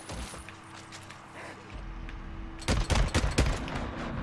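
In the video game Days Gone, a cluster of rapid sharp gunshots bursts out near the end, following a stretch of low mechanical rumble and clicks.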